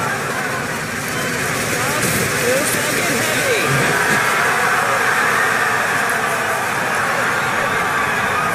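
A SpaceX Falcon Heavy rocket's engines ignite and roar at launch, a loud, steady broadband rumble that fills the whole stretch, with a crowd's voices mixed in and distant cheering.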